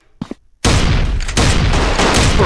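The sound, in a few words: shotgun fire in a mobile gun strike video game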